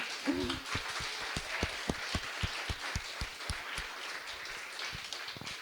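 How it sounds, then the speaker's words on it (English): Crowd applause for speakers at a public health care forum, steady clapping throughout, a room full of hands heard at moderate distance, no talking over it. "let's have another round of applause for all the folks who spoke tonight."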